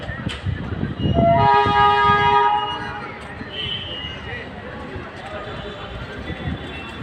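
A train horn sounds loudly near a station, a sustained multi-tone blast rising over the rumble of a passing train, then fading into ongoing rail noise and background clatter.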